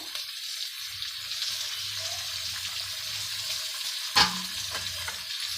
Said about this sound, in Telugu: ఆనియన్స్ బాగా వేగాలి. ఒక 2-3 మినిట్స్ బాగా వేసుకోవాలి.